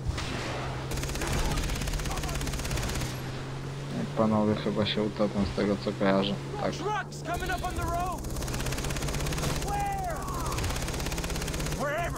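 Rapid bursts of Far Cry 3 gunfire crackle in quick volleys while swimming, over a steady low hum, with a few electronic effects mixed in.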